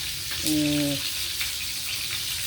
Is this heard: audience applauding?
no